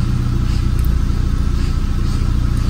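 A Nissan Grand Livina's engine idles at a steady, loud, even drone with a low rumbling hum and no change over the short stretch.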